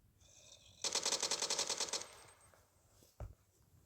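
A rapid burst of automatic gunfire from a Minecraft gun mod (TaCZ), fired at a zombie, rattles for about a second, followed by a single sharp thump.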